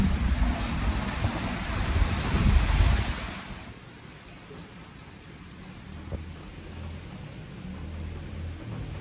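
Strong typhoon wind buffets and roars close by with a light drizzle, a heavy rushing gust dominating the first few seconds before easing into a steadier, softer windy hiss.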